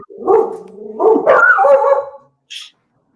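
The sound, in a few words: dogs barking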